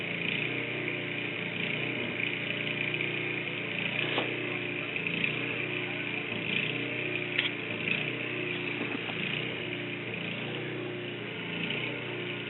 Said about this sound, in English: now we're going to take the snow blower